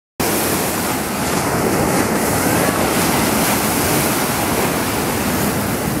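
Big ocean waves break on a beach in Miyako, Japan, a loud, continuous roar of surf mixed with gusty wind buffeting the microphone.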